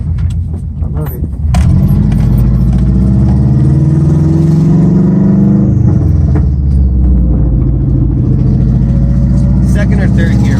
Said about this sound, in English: You hear the turbo all of a sudden just...